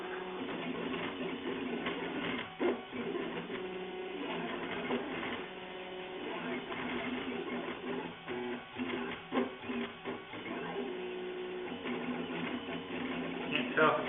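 A Prusa i3 MK2 clone 3D printer runs a print, its stepper motors whirring and chattering in continuous, shifting buzzy patterns with small knocks, close and moderately quiet.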